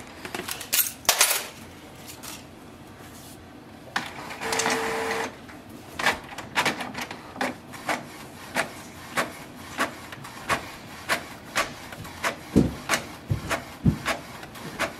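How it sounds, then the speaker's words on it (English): A Canon Maxify GX1020/GX2020 inkjet printer prints a page: a motor whirs, then the mechanism clicks and knocks in a quick, regular rhythm, close and moderately loud, with no talk. "give a print command. So let's check the print speed."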